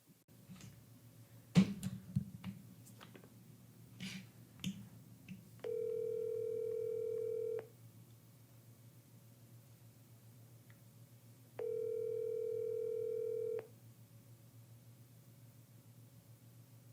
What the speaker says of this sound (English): So here's the phone call.